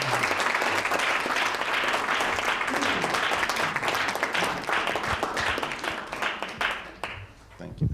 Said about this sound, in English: if you can give a big round of applause